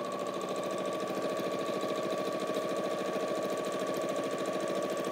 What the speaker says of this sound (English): I'm just guiding that fabric, letting the sewing machine do its business, do its work